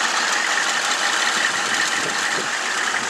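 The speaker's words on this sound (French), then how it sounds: "Je te fais écouter le moteur un peu." The turbo diesel engine of a 1984 Chevy Blazer idles close by, a loud, steady rough drone with a clattering diesel texture that never lets up.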